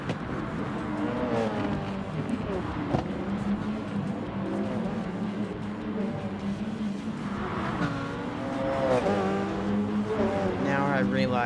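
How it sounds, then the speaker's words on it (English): A race car screams at full throttle in Gran Turismo Sport, engine note climbing and shifting through gears amid other cars on track. A voice talks over the continuous racing sound. "Me, I just slowly let off the throttle and then just full gas it."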